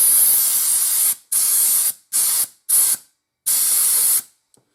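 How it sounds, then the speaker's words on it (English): Compressed air blasts from a nozzle clearing small parts of a semi-automatic shotgun during cleaning, five loud hissing bursts of varying length with short gaps, no talking. "Compressed air is invaluable when it comes to little parts. Kind of just blows everything right off."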